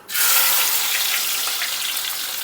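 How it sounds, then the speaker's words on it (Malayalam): Sliced onions dropped into hot coconut oil burst into a loud, close, continuous hiss of frying that starts abruptly and holds steady, heard alone. "അപ്പോൾ ഓയിൽ ചൂടായിട്ടുണ്ടെങ്കിൽ നമുക്ക് ഓയിലേക്ക് സവാള അരിഞ്ഞിട്ട് ഇട്ട് കൊടുക്കാം"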